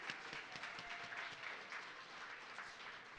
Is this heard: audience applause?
yes